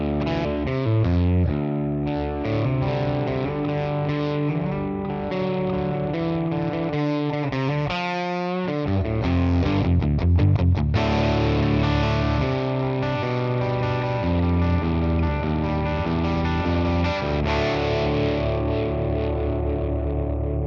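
A Les Paul electric guitar through a ToneX amp capture with reverb added, heard as loud, sustained distorted chords and riffing with a brief low drop in the middle, playing steadily throughout with no talking.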